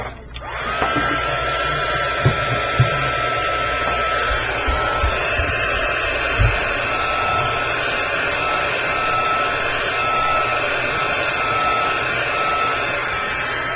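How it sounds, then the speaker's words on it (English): A heat gun blasts hot air onto a stamped butterfly artist trading card, a loud, steady, close roar with a whining tone that starts abruptly and runs on alone, with a few faint clicks underneath. "Now all you're going to do is hit that with a heat gun."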